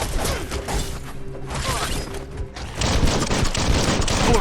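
Gunfire rattles in bursts in the video game Biomutant, with bullets flying, a dense, loud spray of shots and impacts that fills the scene, easing briefly in the middle before intensifying again.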